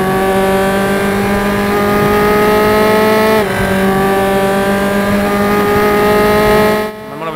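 A race car in the RaceRoom racing game accelerates hard out of a chicane, its engine note climbing loud and steady through the gears with a brief shift dip midway, then cutting off at the end.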